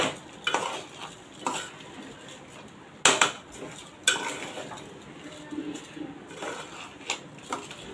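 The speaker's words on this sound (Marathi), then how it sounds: "अशा पद्धतीने जरा ढवळून घेऊया आता चांगला" A spoon stirs a mixture of kolam rice and tondli (ivy gourd) in a pot, scraping and clattering in irregular bursts with a soft sizzle underneath, close and fairly loud.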